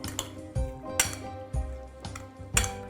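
Utensils clink and knock against a bowl while a summer salad with red wine vinegar and onions is tossed, a handful of sharp taps in an irregular rhythm, close and clear, no talking.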